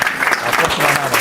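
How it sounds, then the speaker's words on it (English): A short burst of audience applause for a presenter, dense and fairly loud, with faint voices mixed into the clapping. "So let's give another round of applause to Jason"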